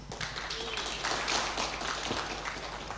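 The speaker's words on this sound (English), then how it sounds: "Round of applause, please, for Matt Richards." Crowd applause with a steady wash of clapping, fairly close and continuous, with a few scattered voices mixed in.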